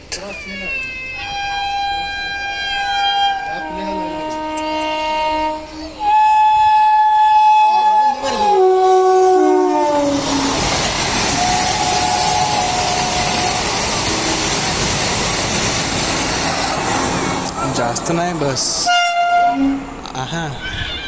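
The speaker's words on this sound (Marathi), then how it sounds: "पुणे कोल्हापूर वंदे भारत." Pune–Kolhapur Vande Bharat express train passing close by, with a loud melodic horn sounding in several blasts, then a sustained roaring rush of wheels and wind; a person speaks briefly over it.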